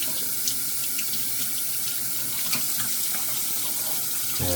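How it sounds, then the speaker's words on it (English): Tap water runs steadily to wet a shaving tub and brush, a close, continuous splashing stream into a sink that carries on alone without any talking. "let's get this tub wet a little bit and get the brush wet."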